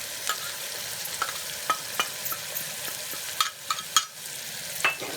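Spoon stirring ginger-garlic paste, coriander, chilli, turmeric and garam masala in a pan for banana stem soup, soft scraping strokes with light sizzling, faint and close, no voices.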